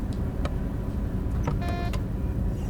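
A cab buzzer sounds inside a train cab on the Tharandter Rampe route with a class 612 unit: brief tonal buzzing bursts near the end, over a steady low rumble of the running train, with a couple of short clicks earlier.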